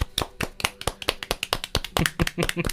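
A small group of tabletop game players claps in sharp, distinct bursts, the claps uneven and close together, with some speech mixed in near the end.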